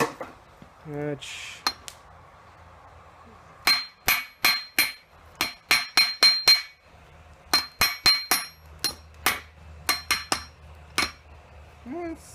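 A hammer forging hot steel for a Thor's hammer strikes in bursts of sharp, ringing blows, fast and rhythmic with short pauses between runs, close and loud.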